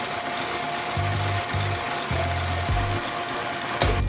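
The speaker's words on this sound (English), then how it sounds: "So I'm going to start my mixer up back again." An electric mixer whips cream, its motor running in short bursts of a low mechanical buzz over a steady background hum, close by.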